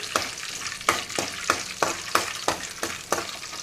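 Ingredients for wheat rava upma frying in a pan, stirred with a regular rhythm of about ten quick spatula scrapes over a continuous sizzle.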